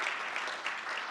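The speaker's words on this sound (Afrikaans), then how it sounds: "Kom ons gee ook vir haar lekker hande klap." An audience at a memorial lecture claps in warm, dense applause, continuous and moderately loud, with individual claps blending into an even wash.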